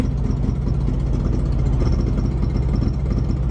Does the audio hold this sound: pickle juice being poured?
no